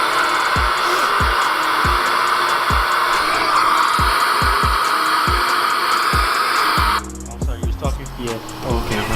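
Pressurized air blasts through the intake plenum of a Nissan 350Z during cleaning, a loud steady hiss lasting about seven seconds over regular low thumps, then cutting off abruptly.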